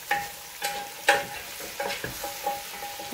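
Carrots sautéing with onion and tomato in oil in a home kitchen: a quiet, steady sizzle with several soft stirring scrapes and clicks at irregular intervals, no talking.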